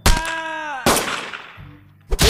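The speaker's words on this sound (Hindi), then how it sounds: "उसने गोली चला दी बिना देखे" Gunshots go off in the Henry Stickmin video game: a loud, sharp blast with a ringing tail, then a second heavy shot that decays slowly, and a third burst at the very end, with no talking.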